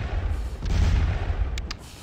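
Rumbling artillery fire during the Battle of Waterloo in Scourge of War: Waterloo, a continuous low booming roar of distant cannon with a few brief sharper cracks near the end.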